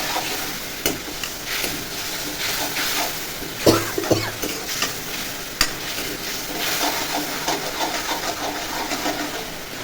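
Onion and spices, with mushroom, sautéing in a pan: a continuous close sizzle with repeated scraping stirs of a utensil and no talk.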